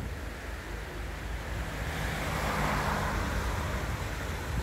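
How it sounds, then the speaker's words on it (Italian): Water from a cascading fountain at the Pedavena beer factory splashes in a continuous, broad rushing wash, steady and moderately loud, swelling slightly midway with no talk over it. "Vediamo questa fontana meravigliosa, cascata."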